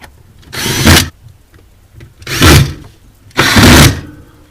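A power drill drives screws into a Sub-Zero model 695 ice maker in three loud, close whirring bursts of about half a second each, separated by short pauses.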